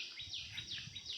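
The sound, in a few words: birds calling outdoors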